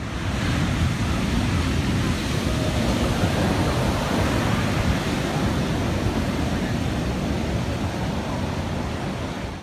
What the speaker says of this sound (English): These fishermen are attempting to navigate some huge break waves, but things don't quite go to plan.